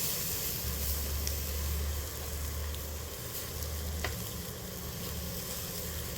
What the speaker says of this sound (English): You can grill that onion and put it aside.